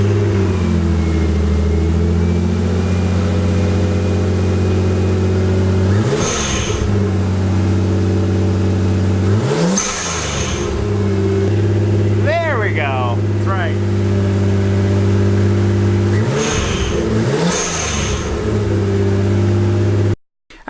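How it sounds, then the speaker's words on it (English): A Nissan S14 240SX with an RB25 engine idles with a steady rumble and revs up several times, each blip ending in the short whooshing release of an HKS blow-off valve, loud and close. "it seems like the blow-off valve is actually working now"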